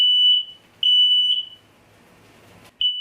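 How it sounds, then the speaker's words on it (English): Smoke alarm sounding in a home, piercing high-pitched beeps in repeating bursts, loud and close: three quick pulses, a longer pause, then another beep starting, with no talk. "I'm also setting off fire alarms."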